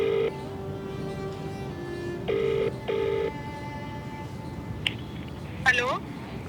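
A phone call is placed: clear ringback tones pulse in a steady on-off pattern over a constant background hum, and a short run of electronic tone chirps follows near the end.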